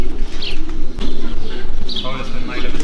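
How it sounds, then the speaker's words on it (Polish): Racing pigeons land at the loft after a 340 km race from Torgau, soft cooing and chirps close by amid wing flutters, with someone talking over them. "Idzie gołąb następny"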